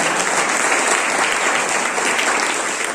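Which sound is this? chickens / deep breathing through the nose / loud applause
loud applause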